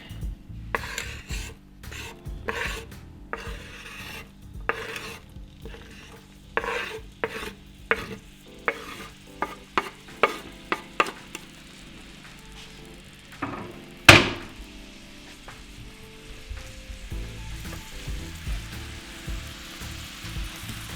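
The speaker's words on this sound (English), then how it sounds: "have your stove, your oil high, and then add in your onion." Stirring and scraping in a pot of hot oil with onion, a string of sharp utensil scrapes and knocks over a quiet sizzle, close and intermittent, with one loud clank midway and no talk.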